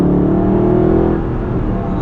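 A deep 6.3-litre V8 car engine rumbles and revs steadily, loud and close, with a throaty exhaust tone that eases slightly toward the end.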